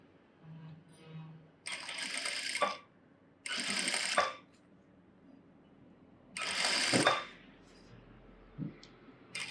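A sewing machine stitches a blouse puff sleeve in three short bursts of whirring, separated by quiet gaps, up close.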